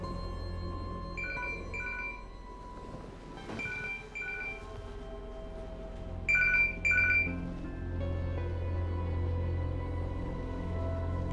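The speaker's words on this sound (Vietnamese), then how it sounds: "Ông nghe điện thoại đi." A telephone rings in a tense Vietnamese drama scene, short repeated electronic ring bursts over a low background hum, with no talking heard.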